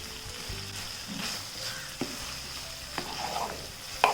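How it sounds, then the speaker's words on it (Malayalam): Curry leaves drop into a pan of chicken ghee roast, giving a low steady sizzle with a few sharp crackles and scraping stir sounds, close and moderately quiet, with no talking. "പക്ഷേ ഞാൻ ഇതിലേക്ക് ഇപ്പം കറിവേപ്പില ചേർത്ത് കൊടുക്കും."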